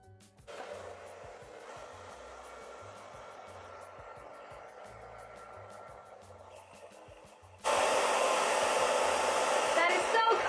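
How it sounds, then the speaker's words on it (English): A hair dryer melting crayons runs with a steady airy whoosh, then jumps abruptly to a louder, harsher blast partway through. "So first I'm going to try the blow dryer."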